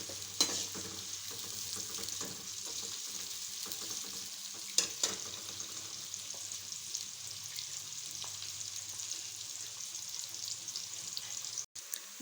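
Onions frying in a pan for beef keema pulao give off a steady, close sizzle that runs the whole time, with a few soft stirring clatters and scrapes. No one speaks.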